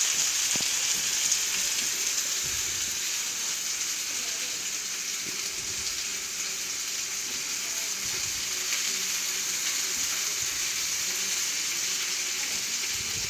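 Pork tenderloin frying in a pan, a steady, dense sizzle that hisses continuously throughout, with faint occasional knocks underneath.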